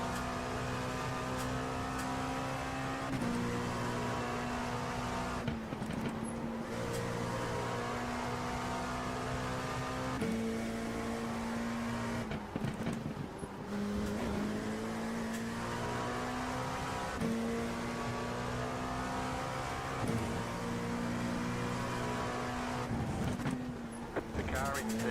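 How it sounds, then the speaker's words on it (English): Racing cars in a video game race, engines droning and climbing through steady upshifts in a repeating pattern of rising tone, heard close and constant while voices talk over them. "The car in P1 just set the fastest lap."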